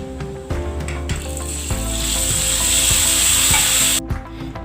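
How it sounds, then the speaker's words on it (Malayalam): Dried red chillies and curry leaves crackle in hot oil for a tempering, then the hot mixture is poured into a Kerala-style mango curry, giving a loud, steady sizzle with clattering pan knocks, cutting off abruptly near the end. "ഇനി നമുക്ക് ഒരു 4 വറ്റൽമുളകും കുറച്ച് കറിവേപ്പിലയും കൂടി ചേർക്കാം. ഇനി ഇത് നമുക്ക് കറിയിലേക്ക് ഒഴിച്ചു കൊടുക്കാം."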